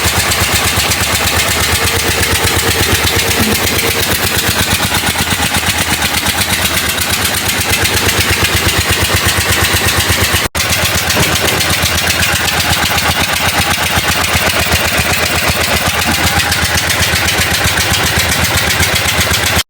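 A restored Soviet motorcycle engine runs steadily up close after carburetor repair, with a fast, even putter, loud throughout, with one brief click partway through.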